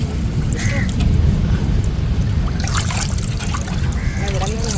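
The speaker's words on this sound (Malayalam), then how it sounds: "കഴുകിയ ശേഷം വീണ്ടും വേറൊരു വെള്ളത്തിലും കഴുകിയെടുക്കും." Split fish being rinsed in water while prepared for drying, with trickling, dribbling and light sloshing splashes continuing throughout at close range.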